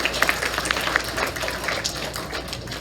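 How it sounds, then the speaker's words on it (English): Crowd applause for a teacher at a fifth grade commencement ceremony, a steady wash of many hands clapping that fills the whole stretch at moderate loudness, with no voices over it. "Let's give her a hand."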